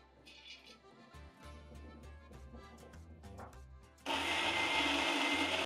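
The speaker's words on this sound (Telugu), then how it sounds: "ఇవన్నీ ఇప్పుడు మిక్సీ జార్లో వేసుకొని ఫైన్ పేస్ట్ కింద గ్రైండ్ చేసేయాలి" A mixie grinder grinds ginger pieces and cumin seeds to a fine paste. Quiet clatter comes first, then the motor starts abruptly and runs with a loud, steady whir to the end.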